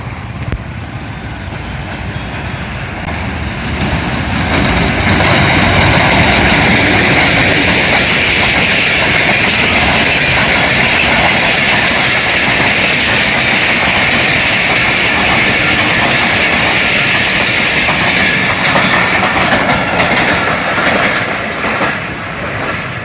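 A 14 Down Awam Express passenger train rushes through Nur Junction railway station, a loud continuous roar with rattling wheels that swells after a few seconds and stays close and steady throughout.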